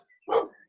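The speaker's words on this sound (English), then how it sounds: "That's my dog." One short, sharp dog bark, fairly close and alone, in a quiet indoor podcast setting.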